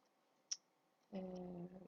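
A single sharp computer mouse click, close and distinct in a quiet room, a brief moment before a louder steady hum comes in.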